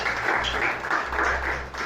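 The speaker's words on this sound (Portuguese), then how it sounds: "Quem crê pode aplaudir por isso." A church congregation claps briefly in applause, a short burst of dense clapping heard close and fairly loud, with no speech over it.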